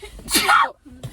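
A single loud, close sneeze bursts out during a casual chat among friends, with a short breathy catch before it and a quieter sound trailing after a brief pause.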